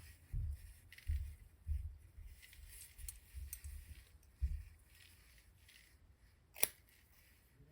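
Scissors snip tinsel fairy hair strands on microlocs, several soft close-up clicks spaced irregularly, quiet and alone, with one sharper metallic snip near the end.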